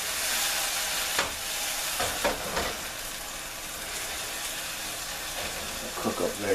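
Resinous polypore mushrooms fry in a pan with a constant close sizzle and hiss, broken by a few light stirring scrapes as their juices cook down.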